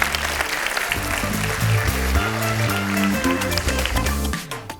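Audience applause at an agricultural machinery trade convention, dense sustained clapping mixed with background music, loud throughout before easing off at the end.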